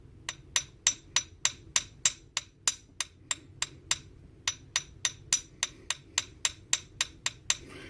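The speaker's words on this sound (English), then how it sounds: "try hitting it with different parts of the hammer" A hammer tapping and flattening coil wire for a snakespine coil build: a long, steady run of light, crisp metallic taps about three per second, close and clear with a brief pause midway.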